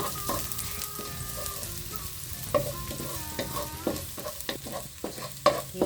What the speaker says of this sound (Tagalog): hintayin natin medyo mag-brown-brown yung bawang